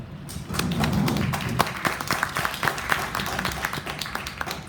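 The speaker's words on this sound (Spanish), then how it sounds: "por favor recibámoslo con un aplauso" An audience at a legal rhetoric and argumentation lecture claps to welcome a speaker, many quick overlapping claps forming a steady, moderately loud patter that continues throughout.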